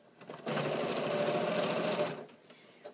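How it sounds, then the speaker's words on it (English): A sewing machine with a walking foot stitching a 1/4 inch seam through thick fabric layers of a bag panel, a steady close whirring drone lasting about a second and a half, then stopping, with no talk. "I'm going to stitch with a 1/4 inch seam."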